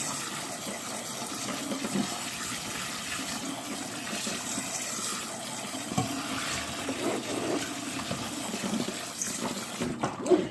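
Konjac-style noodles rinsed under running water for keto chicken lo mein, a steady broadband splash and gush lasting throughout at moderate level with no talk.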